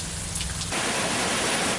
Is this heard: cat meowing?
no